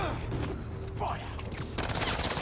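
A volley of gunfire erupts during a Spider-Man 2 game fight, a dense burst of shots that grows sharper and louder toward the end, with a voice heard briefly amid the noise.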